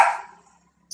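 A single dog bark sounds loud and close at the start of the clip, right beside a door, then trails off into near silence, with a brief faint sound near the end.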